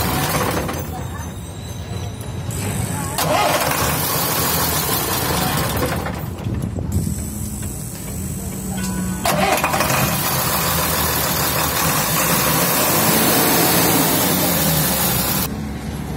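Tata 1616 BS3 truck diesel engine cranking, catching and settling into a steady mid-pitched idle, loud and continuous, with someone talking over it.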